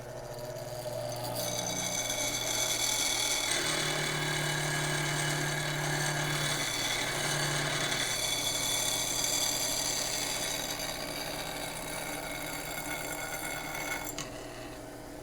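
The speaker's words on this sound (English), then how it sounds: "this wouldn't hurt to do a quick little sharpen" A bowl-turning gouge held against a bench grinder wheel gives a steady, loud grinding whine with a constant hum underneath for about fourteen seconds. No one speaks.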